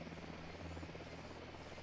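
Patrol helicopter in the video game Ghost Recon Wildlands at dusk, a steady low rotor drone that fills the background with no voices.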